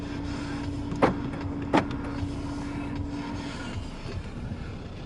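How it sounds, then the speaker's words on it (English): Central door locks of a 2022 Changan Alsvin 1.4 manual car actuate inside the cabin: two sharp mechanical clunks about a second apart over a faint steady hum, with no voices. "Central locking."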